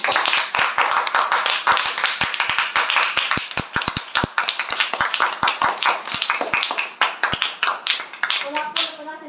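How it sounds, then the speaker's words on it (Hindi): A congregation at a religious sermon breaks into clapping, first a steady patter of individual hand claps, then quicker bursts, ending with a voice speaking over the last claps. "तालियां बजाएंगे"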